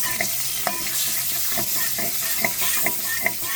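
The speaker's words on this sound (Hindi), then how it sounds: "तो तिल को थोड़ा सा हम तेल में अच्छी तरह से भून लेंगे।" Sesame seeds frying in a couple of spoons of oil for an Indo-Chinese chilli potato dish, a soft continuous sizzle with light spattering pops and occasional stirring scrapes, no voices.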